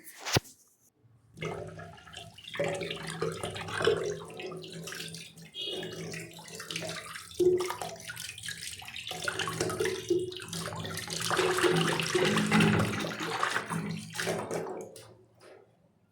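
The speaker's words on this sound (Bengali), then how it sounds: "বেগুন আর টমেটো প্রথমে ভালো করে ধুয়া নই" Eggplant, tomatoes and dried fish being washed under running tap water, a steady splashing flow with some dripping and clattering, close up, lasting throughout without speech.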